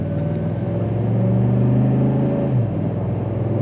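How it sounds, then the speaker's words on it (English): A 2012 Ford F-150 SVT Raptor pickup engine rumbles and climbs in pitch as it accelerates steadily, a deep continuous drone that briefly drops as if shifting gear. "I'm gonna give it a little bit of gas."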